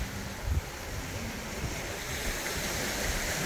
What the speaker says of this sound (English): The waves here are much different as they hit the shore